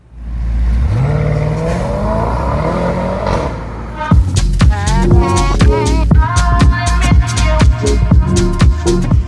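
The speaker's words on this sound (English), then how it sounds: "This is the Mercedes S63 AMG. It is an absolutely crazy car" A gray Mercedes S63 AMG starts up with a low rising engine note, then pulls away with loud revving and clattering, gear-like bursts, close and powerful throughout.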